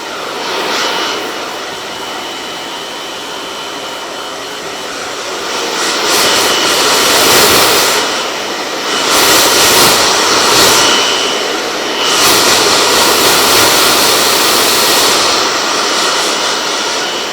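A hair dryer roars steadily throughout a live haircut, blasting hair dry while fingers work through it, with the airflow swelling louder in several surges as the nozzle moves closer.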